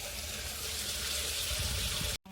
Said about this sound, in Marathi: तर त्यात पाणी सोडून देऊ, तो भरेल.